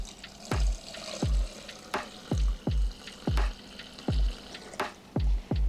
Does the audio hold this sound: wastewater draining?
yes